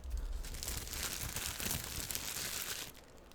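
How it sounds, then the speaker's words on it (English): Plastic wrap is peeled and crinkled off a phone case up close, a continuous crackly rustle that fades out near the end, with no talking. "Get rid of the plastic."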